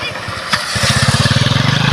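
Motorcycle engine running close by on a rural farm track, a steady pulsing low throb that settles into an even idle rhythm, with a voice speaking briefly over it.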